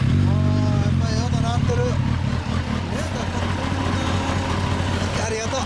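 A 2010 Kawasaki Ninja ZX-10R fitted with a Trick Star exhaust runs at a steady, loud idle close by, with a low rumbling drone throughout while people talk over it.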